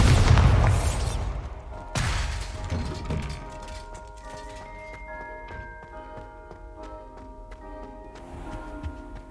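A Bombarda spell explosion in the video game Hogwarts Legacy: a loud, deep boom bursts out at the start and a second blast follows about two seconds later, then fades into ringing tonal music with no speech.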